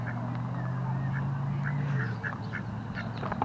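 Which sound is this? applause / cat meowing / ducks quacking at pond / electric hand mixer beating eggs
ducks quacking at pond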